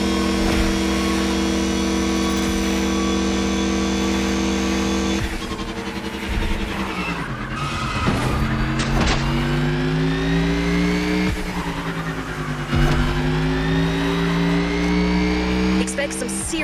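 A Mercedes EQ Silver Arrow race car in The Crew Motorfest drones loudly and steadily throughout, its pitch dipping and climbing with gear shifts and speed changes on a long island race, with a voice talking over it.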